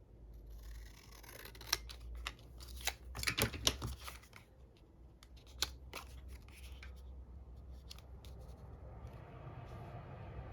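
Scissors snip through material during a recycling craft, a cluster of close, sharp cuts around the middle followed by softer handling rustles, with no talking.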